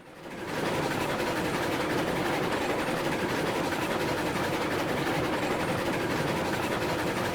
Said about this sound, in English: Just gonna have to back the train up.